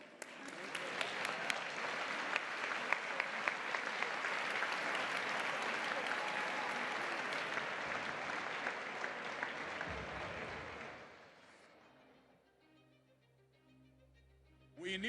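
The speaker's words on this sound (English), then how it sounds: "Give a big applause to these three fighters for democracy." Large audience applauding at a global progressive summit in Barcelona, dense sustained clapping with a few sharp claps standing out, fading away near the end into quiet hall ambience with faint sounds.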